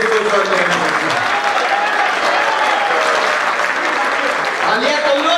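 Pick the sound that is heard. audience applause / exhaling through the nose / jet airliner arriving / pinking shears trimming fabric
audience applause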